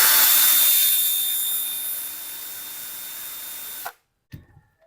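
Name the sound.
sanding the top of a rivet with sandpaper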